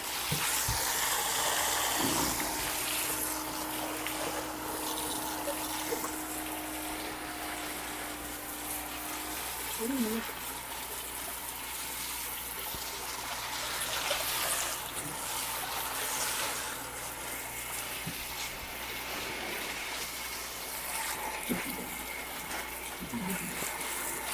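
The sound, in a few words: water rinsing soap off an animal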